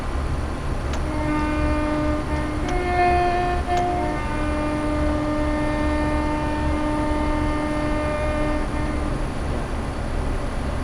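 A Class 170 train under throttle in a Train Sim World 4 Fife Circle run near North Queensferry, with a steady rumbling engine drone and rising tonal whine, continuous and even in loudness, with no voices.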